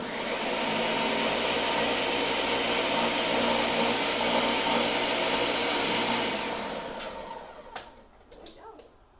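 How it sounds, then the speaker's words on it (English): A kitchen blender whirs loudly and steadily, blending squash bisque seasoned with salt and pepper, then winds down near the end as a few faint clinks follow. "Just gonna blend it one last time with that salt and pepper"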